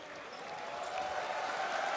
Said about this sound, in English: the applause is for Luis Scholar heading to the bench